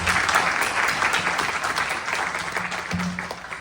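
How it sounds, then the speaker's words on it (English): Audience applause at a youth yajna in a Hindu temple hall, a dense, sustained wash of clapping from many hands, loud and even throughout with a faint voice or tone under it. "Please give him another round of applause."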